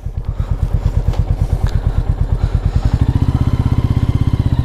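A Royal Enfield Meteor 350 single-cylinder motorcycle pulling away, its engine thumping in a steady, rapid beat that quickens slightly as it moves off, loud and close, with no talking.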